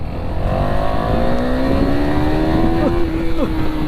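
A KTM Duke 390 motorcycle engine revs and climbs through the gears, pitch rising steadily as it accelerates from second gear, loud and close with a rough exhaust note.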